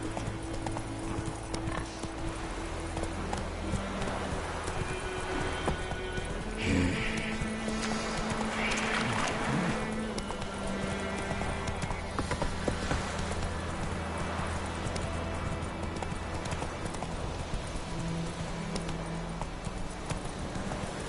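Roach, a horse in the video game Witcher 3, gallops in a steady rhythmic clip-clop of hooves that runs through the whole stretch, with a brief whinny and a few game sound effects layered over ambient background noise.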